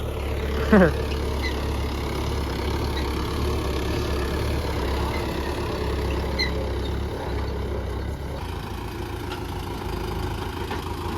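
A tractor engine runs under load pulling a rotavator through soil, a steady low mechanical drone with constant rumble and a brief higher squeak near the start.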